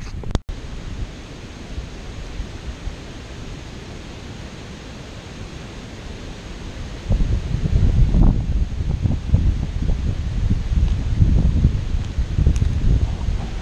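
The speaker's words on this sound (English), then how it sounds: "it's very windy, which feels good, but won't be good on the audio for this video" Strong wind buffets the microphone on an outdoor hike, a steady low roar that grows louder and gustier partway through, with no other sounds above it.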